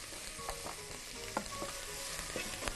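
Garlic fries with green beans in a pan, giving a constant bright sizzle with a few short scrapes and taps of a utensil at irregular intervals, close and fairly quiet, no voices.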